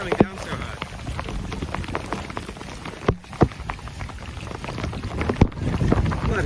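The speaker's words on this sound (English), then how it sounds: "I can't even see, the rain is coming down so hard." Heavy rain pours down hard and steadily, with scattered sharp drops and splashes standing out against a dense, loud wash of water.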